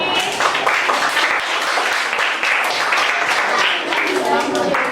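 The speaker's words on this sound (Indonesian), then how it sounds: "tepuk tangan untuk Yadi" A class of students claps for a classmate named Yadi in a school lesson, a fairly loud burst of quick, uneven hand claps that runs throughout, with voices mixed in.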